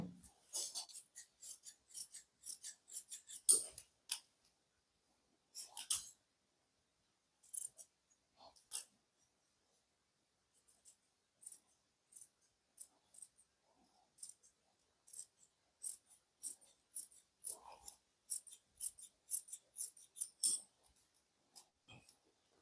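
Scissors snipping through kameez fabric, quiet close crisp cuts in quick irregular bursts separated by silent pauses.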